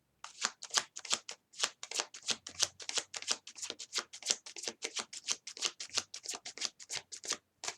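Tarot cards are shuffled in a quick, steady run of crisp riffles and flicks, close and fairly quiet, continuing alone without any talk.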